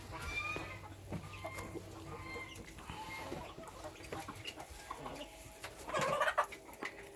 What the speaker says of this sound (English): Good morning, rooster.